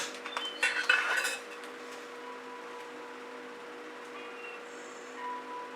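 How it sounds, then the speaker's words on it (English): A Princeton Artful Catalyst spatula thrown into a bucket, a short burst of clattering knocks and clinks near the start, then a quiet steady hum for the rest. "throw my little spatula, my Princeton Artful Catalyst spatula, into the bucket"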